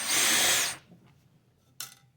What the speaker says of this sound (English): Remove all these perimeter screws right here.